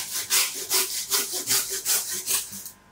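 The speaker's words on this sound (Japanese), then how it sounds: "このノコギリを入れて中骨を引くときに 身をノコギリで引かないように今ここまで入れてます。" A hand saw rasps back and forth through the backbone of a tuna at a Toyosu fish market stall, about eight rhythmic close strokes, loud and alone before trailing off.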